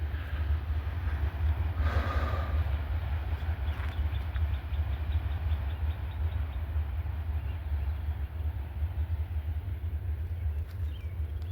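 A northbound freight train rumbles past steadily with deep, continuous low rumble and faint clatter, fairly close and loud throughout, no talking.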